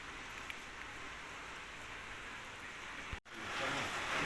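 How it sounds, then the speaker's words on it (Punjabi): Light rain falls steadily as a soft, even hiss near Yol village above Dharamshala, broken by a brief dropout toward the end before resuming slightly louder. "ਲਾਈਟ ਮੀਂਹ ਪੈਂਦਾ ਪਿਆ"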